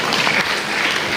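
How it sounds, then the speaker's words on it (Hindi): Steady, dense applause from a crowd at a motivational talk held in a Brahma Kumaris hall in Tinsukia, filling the whole moment loudly with no voices over it. "ताली बजाइए जोर से।"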